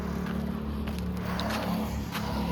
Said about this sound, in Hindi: अपनी गाड़ी स्टार्ट करते हैं